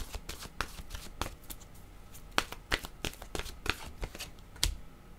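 Tarot cards are shuffled up close, making a continuous run of crisp flicking and riffling snaps with uneven rhythm and no voice.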